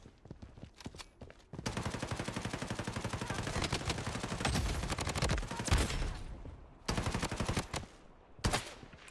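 A Bison submachine gun fires in a video game: a long sustained burst of rapid automatic shots, loud and close, broken by short pauses, then two more brief bursts near the end.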